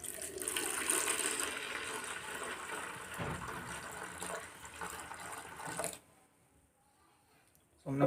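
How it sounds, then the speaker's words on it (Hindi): Roughly 400 to 500 grams of water poured into a container for mixing homemade white phenyl: a steady rushing splash for about six seconds that then cuts off to near silence. "अब इसमें सबसे पहले हम 400 से 500 ग्राम पानी ले लेते।"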